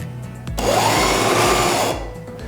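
A sewing machine stitches the flaps of a reusable cloth diaper in one short, whirring burst of about a second and a half, close and clear, with quiet before and after.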